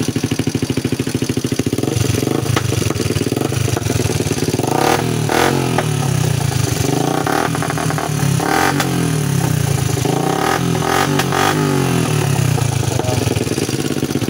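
A Bajaj Kawasaki CT100 motorcycle with a loud, damaged exhaust pipe runs close by, its engine clattering and revving repeatedly in rising and falling surges over a constant rough drone.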